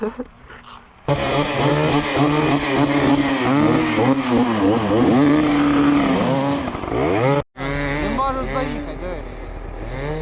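A Fantic motorcycle engine revs and climbs through rising and falling pitch on a winter ride, loud and close, with a brief cutout before another burst of revving; voices talk over it in places.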